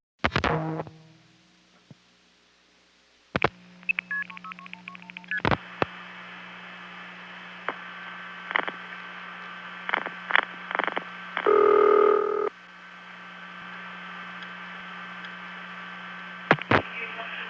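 Mid-1970s long-distance telephone call routed through an NX1 exchange: a burst of dial tones and tone signalling, then steady line hiss with repeated clicks and a ringback tone, alone with no voices.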